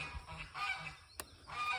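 Geese honking in a garden setting near okra plants, a few short nasal calls repeating at moderate distance, with a sharp brief snap partway through.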